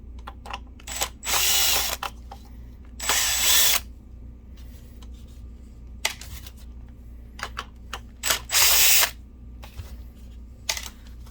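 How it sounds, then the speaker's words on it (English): A power screwdriver backs screws out of the rear of a BenQ HT1075 DLP projector in four short whirring bursts, separated by quiet pauses with small clicks and handling noises, close up. "So let's take the back screws out."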